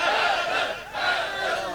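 A large majlis congregation in Kotli Ameer Ali shouts a loud, sustained group chant of "Haider", with two swelling waves of massed voices separated by a brief dip.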